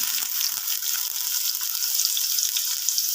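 Sliced onions fry in a pan as the base for an okra stir-fry, producing a continuous close hiss and crackle of sizzling oil with no talk.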